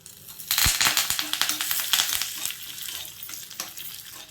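Dried red chillies and curry leaves hit hot oil and set off a sudden crackling sizzle with sharp pops. It rises quickly, then settles into a softer spitting fizz, close up with no talking.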